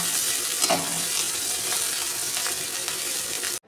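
Finely chopped onions frying in a pan, a dense, loud, continuous sizzle with occasional spatula scrapes, cutting off abruptly at the end.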